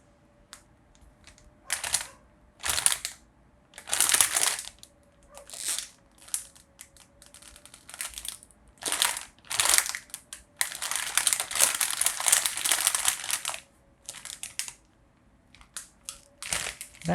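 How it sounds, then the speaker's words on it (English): Plastic bag being crumpled and crinkled close up in bursts of crackling, separated by short pauses, with a longer sustained stretch of crinkling near the middle, for home sound-effect recording. "So I just found this plastic bag."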